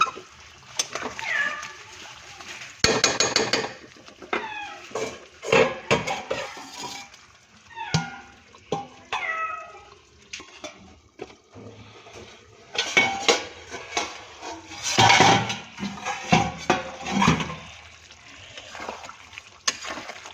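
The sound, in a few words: pot being covered with a lid while chicken cooks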